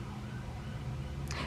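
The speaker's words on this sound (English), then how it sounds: "Now there's sirens in the back." An emergency siren wails steadily in the distance, a continuous low drone filling the background with no voices over it.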